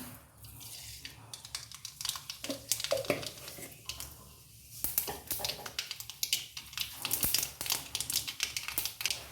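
Mustard seeds hit hot oil for a crab curry and crackle in scattered, irregular pops and spits, quiet overall with small bursts of denser crackling.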